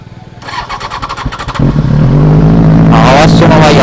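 A Benelli 600i motorcycle engine is started: a rapid cranking chatter gives way to a loud, steady idle that rises in a rev near the end, with voices talking over it.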